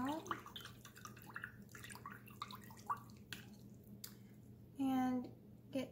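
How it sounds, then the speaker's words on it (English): An acrylic paint brush swishes and taps in a water cup in soft, intermittent splashes and clicks, fairly quiet and close, with one brief louder burst partway through. "now I'm gonna rinse my brush out."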